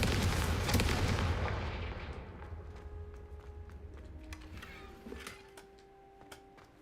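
A Confringo fire spell detonates in the Hogwarts Legacy video game, a loud booming blast at the start that decays into a lingering rumble with faint clicks and tones trailing behind.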